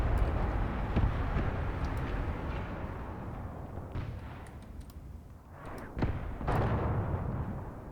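Artillery fire mission in the war game Graviteam Tactics, with a continuous low rumble of distant bombardment and several separate booming impacts spread across it, moderately loud and without talk.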